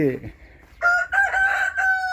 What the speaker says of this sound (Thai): ไอ้ ไอคอกตรงนี้เนาะ